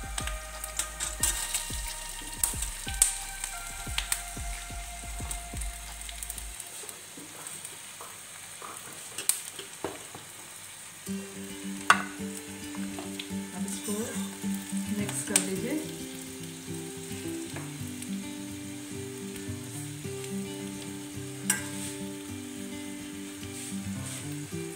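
Cut boiled potatoes sizzle and fry in a pan for an Indian spiced dish, with steady crackling, scraping and stirring knocks throughout, close by and without talking.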